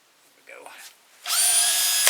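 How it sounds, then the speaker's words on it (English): A Dremel rotary tool carves into a wooden ventriloquist dummy figure, a high whining buzz starting abruptly after a brief quieter rustle and running steadily to the end. "we'll use our Dremel to open this up some"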